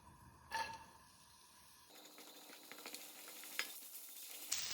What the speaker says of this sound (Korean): 한번 볶아 보도록 할게요 아보카도유를 한번 두르고